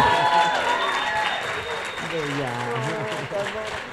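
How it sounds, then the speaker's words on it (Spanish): Audience applause at a women's summit, broad clapping and crowd noise running steadily at moderate loudness, with a voice speaking over it as a speaker takes the stage. "Un aplauso enorme."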